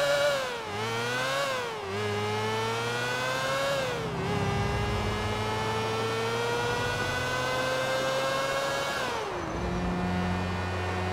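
A motorcycle engine in the video game GTA 4 drones steadily at close range, its pitch dipping and rising with a few throttle changes and gear shifts, with no talking over it.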